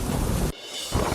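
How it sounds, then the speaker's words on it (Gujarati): Heavy rain with thunder pours down hard, a dense, loud roar that cuts off abruptly for a moment, then swells back in at full strength. "મેઘરાજાએ રૌદ્ર રૂપ બતાવ્યું અને ધોધમાર વરસાદ ખબક્યો"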